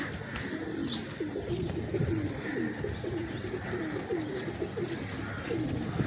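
Cross-bred pigeons, teddy and red-eyed Zakh Cheena show birds, coo steadily and repeatedly in a chorus of overlapping rolling calls, close and fairly loud over a constant room hum, with no talking.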